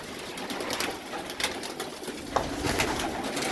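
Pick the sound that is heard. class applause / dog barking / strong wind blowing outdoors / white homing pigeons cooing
white homing pigeons cooing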